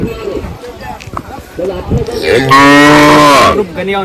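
A small native village bull lets out a loud, drawn-out moo close by at a Maharashtra bullock-cart race ground, with people chatting before and after it.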